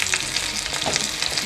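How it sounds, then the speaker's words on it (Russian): Fish frying in a pan over low heat, heard as a close, even sizzle of fine crackles and pops that continue steadily throughout. "Я жарила рыбку на маленьком огне."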